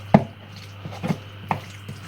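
Cold vegan sausage filling for a giant Greggs-style sausage, bean and cheeze melt pasty is mixed by hand in a bowl, giving a few sparse, soft knocks and clunks against a quiet background.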